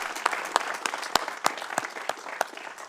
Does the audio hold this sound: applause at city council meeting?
yes